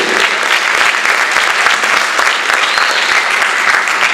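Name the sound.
audience applause at a jazz camp performance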